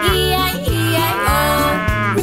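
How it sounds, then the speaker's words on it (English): A cow moos in a sung farmyard nursery rhyme, a long sustained lowing over steady bouncy backing music that ends in a shorter repeated moo, loud and close with no talking. "And on this farm he had a cow"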